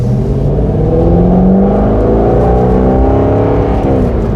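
An Aston Martin Vantage GT8 sports car engine revs hard and close, its pitch climbing and sliding as the throttle is worked, loud and unbroken for a few seconds.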